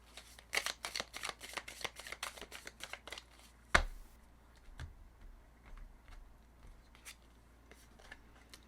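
Tarot cards shuffled by hand during a reading, a quick run of crisp riffling flicks near the microphone, then a sharp tap and a few softer scattered card sounds, with no talking.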